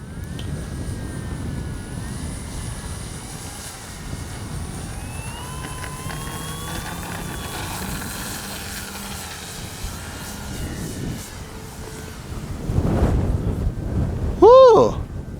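A Durafly Slowpoke RC plane's electric motor whines steadily on a very windy day as it takes off, with rising and falling pitch, wind buffeting throughout and a brief loud burst near the end.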